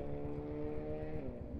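A motorcycle with a noisy exhaust revs nearby, its low harmonic engine drone steady and loud with slight rises in pitch as the throttle is blipped.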